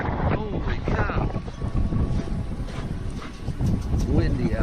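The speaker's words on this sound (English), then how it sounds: "It's windy out." Wind blows hard during an April snowstorm in Wausau, Wisconsin, a buffeting outdoor rush against the microphone with a person talking over it.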